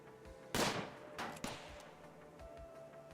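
Gunfire from a colonist in the video game Rimworld: one loud shot burst followed by a couple of weaker cracks over a steady game background hum, with no speech.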